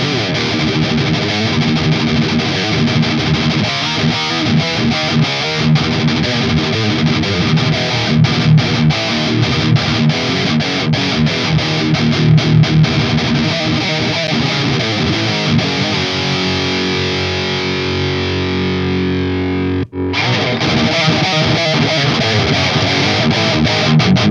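Electric guitar played through a Dual Rectifier amp's red channel with a Mud Killer pedal, giving a dense, heavily distorted tone that chugs continuously and loudly, broken by a brief cut near the end before resuming.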